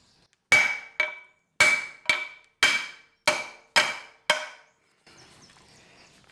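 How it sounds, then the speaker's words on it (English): Eight sharp hammer strikes ring out against the side of a sickle bar mower blade, hitting it to shear the rivets, in uneven pairs with short metallic decays, then a faint low rustle. "sometimes they try to shear these rivets by hitting the side of the blade, so we'll try that."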